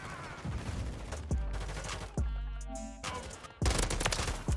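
Automatic gunfire from a low-recoil gun in Call of Duty MW3, sustained loud bursts broken by short pauses, with heavy impacts and no talking.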